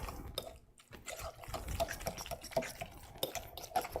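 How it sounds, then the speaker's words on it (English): Fork scraping and stirring pumpkin puree in a bowl, wet squishy mixing strokes with light clinks against the bowl, repeated irregularly and close up. "I'm just gonna mix this up well so it gets really soft"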